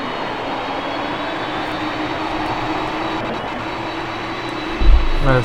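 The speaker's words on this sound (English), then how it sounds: "Their engines start up." Aircraft engines starting up in Flight Simulator X, a continuous loud engine drone with a sudden low thump and surge near the end, no voices present.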